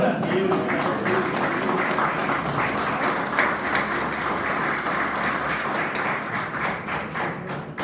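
A church congregation applauds in a continuous wash of clapping, with a few sharper taps and thuds standing out and faint voices beneath.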